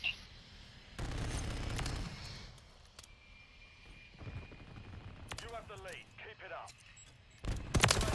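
Gunfire in Call of Duty: Modern Warfare 3 comes in loud bursts and rapid automatic volleys with pauses between, while players talk over the shooting.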